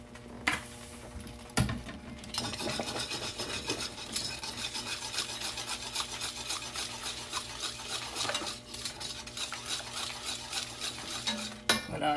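Macaroni being stirred into a pot of cheese sauce on the stovetop, giving a steady wet scraping and rubbing that runs almost the whole time, with a few sharp utensil knocks against the pot.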